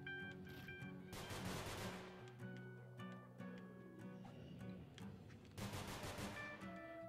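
Gunfire from the video game NONGUNZ, in two dense bursts of rapid shots with scattered single reports and a steady musical drone between them, fairly quiet overall.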